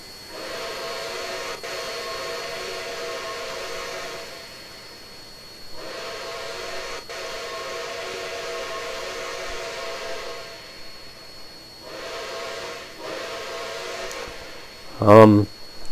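A steam locomotive whistle in Trainz 2019, for engine 4449, sounds briefly and loudly near the end, after long stretches of steady rumbling train noise with a gentle hiss.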